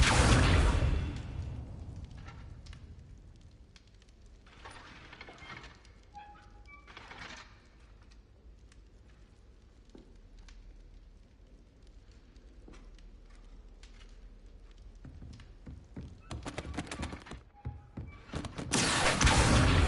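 Spells cast in Hogwarts Legacy burst out as loud whooshing blasts at the start and end, with fainter swishes and thuds between them over a quiet magical backdrop.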